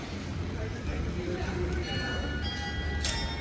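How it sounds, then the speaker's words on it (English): Church bells ring in Gouda on a cloudy, cold day near a market. The tones are faint and distant, mixed into outdoor crowd noise, with people talking nearby. "there's these beautiful churches, and the bells are ringing"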